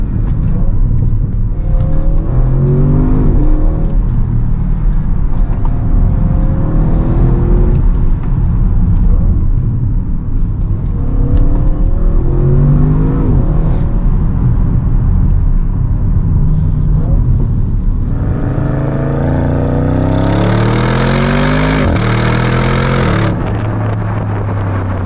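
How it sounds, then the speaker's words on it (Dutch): Exhaust of a 2022 Audi RS6 revving hard: a loud, continuous engine roar that rises and falls through repeated throttle blips, climbing to a harsher, higher-pitched peak near the end, with no talking. "En hoor eens wat die uitlaat doet."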